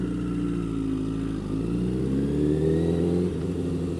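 A motorcycle pulls away from a stop using throttle and clutch, the engine rising from a steady idle into a smooth rev that climbs in pitch, close and loud with no talking.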